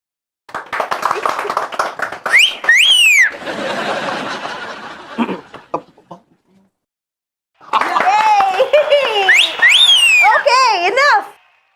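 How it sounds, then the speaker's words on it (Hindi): A man whistles happily in bright, rising and falling bursts, two spells separated by a pause, mixed with speech and laughter in an Indian TV comedy scene. "नहीं, ये खुशी वाली सीटी है सर।"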